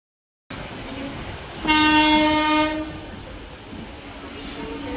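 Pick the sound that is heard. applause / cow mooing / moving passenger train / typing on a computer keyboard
moving passenger train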